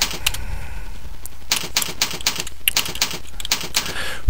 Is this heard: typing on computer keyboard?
yes